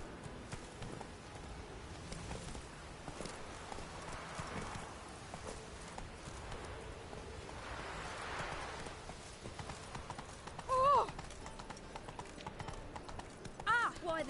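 The horse Roach gallops in The Witcher III: Wild Hunt with steady, rhythmic clip-clop hoofbeats, joined by a brief whinny partway through, while voices talk over the running.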